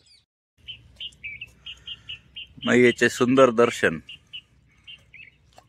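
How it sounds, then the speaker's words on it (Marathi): Small birds chirp and tweet at a Narmada riverbank ghat, with short repeated calls on either side of a burst of close male speech; the calls are fairly faint and spaced out. "पक्ष्यांचा चिवचिवाट"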